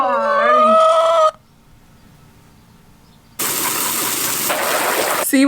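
Chickens at a backyard coop with nesting boxes, a loud rooster-like crow and clucking up front, then a quiet gap before a burst of broad rustling, flapping-like noise.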